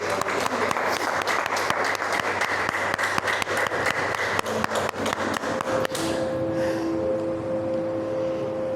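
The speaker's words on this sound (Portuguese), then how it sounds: "Vamos aplaudir o Senhor por isso então." A church congregation claps in praise, a loud, dense burst of applause with sharp individual claps that cuts off abruptly, leaving a quieter room with a sustained tone hanging in the background.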